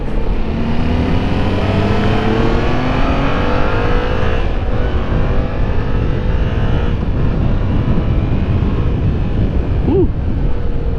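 A 2017 Yamaha FZ-07 motorcycle accelerates onto a highway, its engine note climbing through the gears under heavy, constant wind roar close to the rider.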